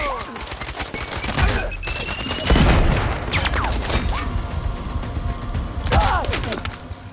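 Gunfire in the video game Sniper Ghost Warrior Contracts 2: a volley of sharp shots and booms with a heavy thud partway through, loud and close, over a continuous busy game soundscape.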